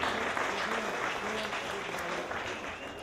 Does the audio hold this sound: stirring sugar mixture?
no